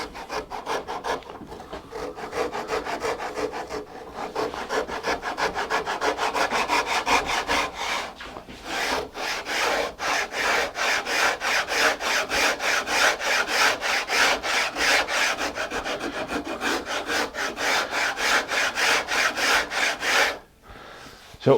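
Steady rhythmic rasping of a hand tool working a wooden guitar neck on a rough pass, clearing bandsaw marks, with fast back-and-forth strokes close up and loud, continuing for about twenty seconds before a brief pause.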